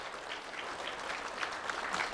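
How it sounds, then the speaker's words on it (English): Applause for Lee County Sheriff's Office staff at an awards event, a steady, fairly soft round of clapping from an audience, continuous for the whole stretch with no talk over it. "So a round of applause for them from the Lee County Sheriff's Office."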